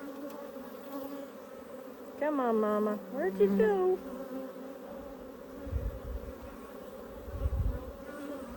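Steady honeybee buzzing around an opened hive hums throughout, with a voice talking briefly over it and low handling bumps near the end.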